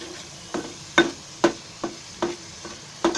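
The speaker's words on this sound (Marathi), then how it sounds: "त्याच्यामुळे थोडा ते असं तेलामध्ये भाजायचं." Raw spice masala roasting in oil for a chicken soup gives a quiet sizzle, with about seven sharp, evenly spaced stirring knocks of a spoon against the pan.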